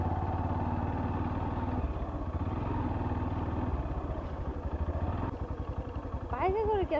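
A motorcycle rides along a road toward hills, its engine a steady mid-pitched drone throughout, with people talking over it and a brief higher whine near the end.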